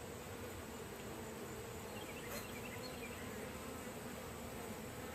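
Honey bees swarm around an open hive during a midsummer inspection, a dense, continuous close buzzing that fills the scene with no speech.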